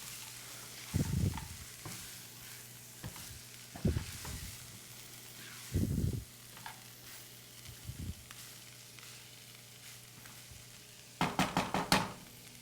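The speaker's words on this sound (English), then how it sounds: "You're gonna wanna keep stirring this every once in a while." A Trader Joe's soy dish sizzles quietly in a pan, broken by a handful of scraping stirs at intervals and a clatter of utensil against pan near the end.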